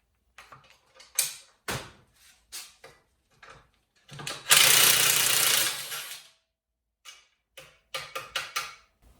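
Nut being undone on the overrun damper bolt of an AL-KO 251S braked trailer, with scattered metallic ratchet clicks and taps and one longer rasping burst of turning, close up and without talk.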